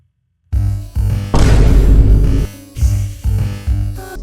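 Song played back through a soundboard with heavy reverb, loud washed-out bursts of music in short chunks with smeared tails, no talking over it.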